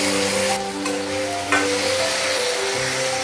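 Ground spice paste frying in a pan after onions, for a Bengali fish curry with tomato and potato; a steady close sizzle runs throughout with a brief stirring clatter partway through.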